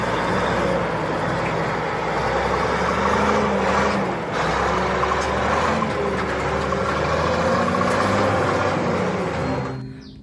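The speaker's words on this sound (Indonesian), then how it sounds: "yang ada di sini ada truk pasir teman-teman" A toy sand truck's steady, low engine rumble runs throughout at close range, rough and continuous, cutting off abruptly near the end.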